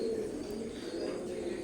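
Teddy-breed pigeons, an imported bloodline pair, cooing softly and steadily at close range, a low continuous murmur of coos with faint background hum and no talk.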